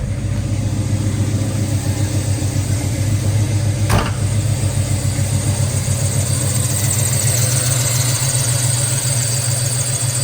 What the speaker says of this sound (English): Nice smooth running big block V8.